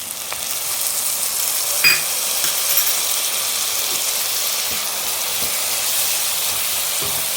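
Masala for doi chicken sautéing in a pan, a loud continuous close sizzle and hiss with a few soft stirring knocks, no voices over it.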